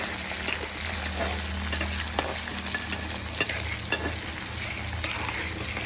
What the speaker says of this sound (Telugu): ఇప్పుడు ఆయిల్ వేసుకున్నాను. ఒకసారి కలుపుదాం.